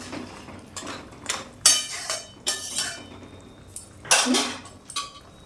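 A utensil scraping and knocking against a pot while stirring a parshe fish curry with brinjal, potato and fried bori, a run of irregular metallic clinks and scrapes, fairly close, no talk.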